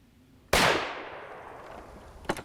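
A single loud, close report from a large-caliber early 20th-century Japanese military rifle rings out with a long decaying echo outdoors, followed by a faint metallic clack.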